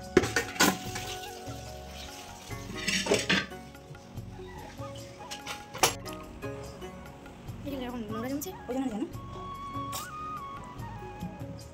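Leftover vegetable curries warm in a pan with a faint sizzle and occasional clatter of stirring, mostly beneath ongoing talk.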